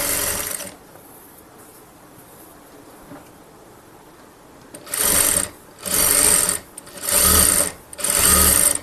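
Sewing machine with a double presser foot stitching piping: a short whirring burst, a quiet pause, then four loud, close, evenly spaced runs of buzzing stitching.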